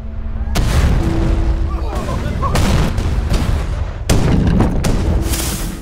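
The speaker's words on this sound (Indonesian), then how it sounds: "Seluruh kota dihujani tembakan meriam." Cannon fire bombarding a city, a series of heavy booming blasts, three or four big impacts with rumbling decay between them, loud and close.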